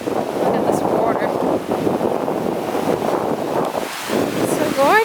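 Ocean waves wash onto a beach at sunset in Tulum, a constant surging roar under heavy wind noise on the microphone, with a voice heard faintly near the end.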